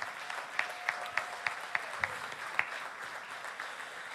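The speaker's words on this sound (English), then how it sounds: "Let's just give Jesus a hand clap of praise." Scattered hand claps from a church congregation praising during a Sunday sermon service, quiet and somewhat distant, sounding as a loose series of separate sharp claps over a low steady room hum.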